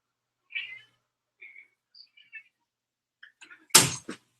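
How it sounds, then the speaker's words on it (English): A cat meows several times at a door, short separate calls spread out before a loud thump or knock near the end, close by in a quiet room. "that's my cat at the door."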